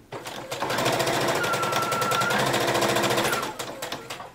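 A sewing machine stitches fabric for a robe in one steady, rapid mechanical run lasting about three seconds, starting and stopping cleanly in a quiet room.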